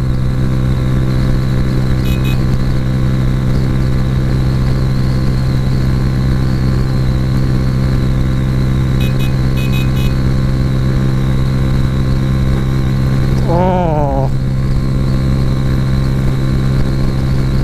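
Suzuki GS 150 Special Edition motorcycle cruising at around 100 on a road ride, a steady loud engine drone with wind rush running continuously, and a brief rising whine near the end.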